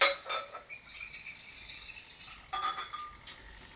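A dram of Balblair 12 whisky is poured into a Trudeau glass, giving soft glassy clinks and a light trickle, quiet and close, with a couple of brief louder taps near the start and toward the end.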